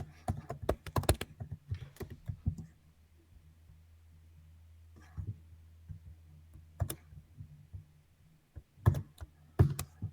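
Close bursts of computer keyboard typing as code is entered, with rapid clustered keystrokes at the start and scattered clicks later, separated by quiet pauses, fairly soft overall.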